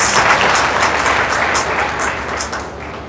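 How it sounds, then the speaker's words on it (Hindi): Audience applause at a network business leadership training session, a steady burst of many hands clapping that fades slightly toward the end. "वेरी गुड, जोरदार ताली बजाओ"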